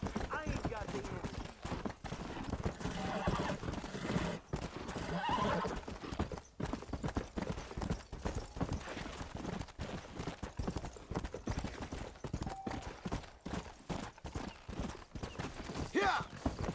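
Horses in the Red Dead Redemption video game clip-clop with steady hoofbeats while one neighs and whinnies, mixed with game sounds and a voice speaking over the top.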